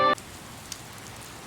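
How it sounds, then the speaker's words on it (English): Steady, soft video-game rain hissing evenly throughout, following a brief tonal chime at the start, with no talk over it. "It's raining."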